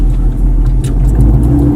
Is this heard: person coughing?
no